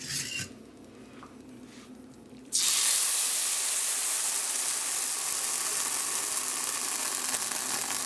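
Ground guajillo chile paste strained into hot oil in a pan, bursting into a loud, steady sizzle and hiss that starts abruptly and holds to the end after a quieter lead-in.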